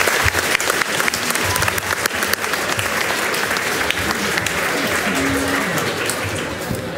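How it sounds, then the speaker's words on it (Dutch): An audience at a Dutch school debating contest claps for the three debate participants, a dense sustained round of applause at moderate distance, with some faint voices mixed in. "Even een applaus voor de drie deelnemers."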